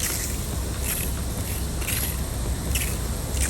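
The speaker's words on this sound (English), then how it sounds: "And this will give you a nice big spray." A pump sprayer hisses in a steady, loud spray onto a car for a waterless wash, with brief bursts of stronger spraying every second or so.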